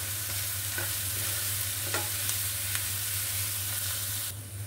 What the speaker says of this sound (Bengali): পেঁয়াজটা আমি বেরেস্তা করে নিচ্ছি।